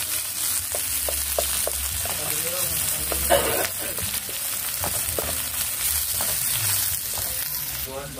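Fish frying in hot oil until golden, a continuous crackling sizzle with occasional pops and clinks nearby; bits of background voices and movement drift in under it.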